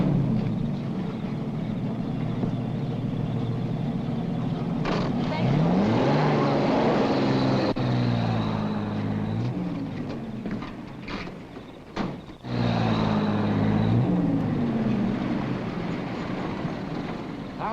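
A car engine starts and pulls away in a 1939 mystery film, a broad rumble rising and fading under orchestral music, with a voice calling out near the end.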